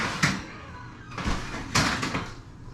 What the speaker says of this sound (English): Just shut the door behind you, honey.